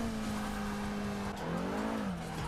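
A car in Forza Motorsport 6 on the Green Hell circuit spins its wheels in fifth gear while climbing a hill: a loud, continuous high engine drone with wavering pitch and a squealing edge, and no talk.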